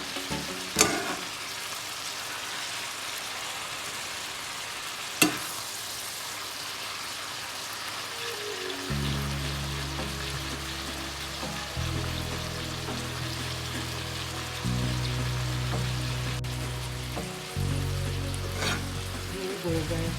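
Cabbage and sausage fry in a pan with a steady sizzle, broken by a couple of sharp knocks of a utensil against the pan and a low rumbling hum joining partway through.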